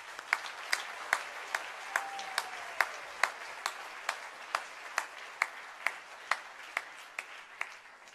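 A small audience at a house music event claps steadily, sharp individual claps standing out at fairly regular intervals over a soft bed of applause, moderately distant and without talk.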